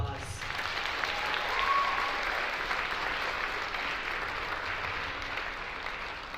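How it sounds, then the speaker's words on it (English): Sustained applause from a pageant audience honoring the contestants at the 2024 Miss Washington County and Miss Greater Zion competition, a steady wash of clapping filling the hall at even loudness throughout. "Let's give them all one more round of applause."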